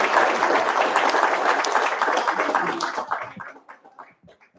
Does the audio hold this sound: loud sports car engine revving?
no